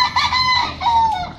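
A rooster kept for cockfighting crows once, loud and close, a strained wavering call lasting just over a second.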